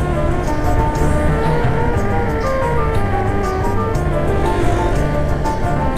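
Heavy cargo trucks on the central Sumatra trunk highway between the West Sumatra–Jambi border and Bukittinggi, a steady, loud engine drone and tonal road roar passing continuously throughout.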